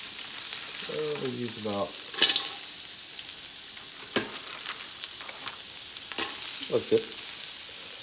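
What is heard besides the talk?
carrots frying in oil for steak fried rice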